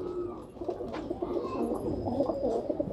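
Sherazi breeding-pair pigeons coo softly and repeatedly in a loft, low rolling calls layered over one another at moderate distance against a faint background.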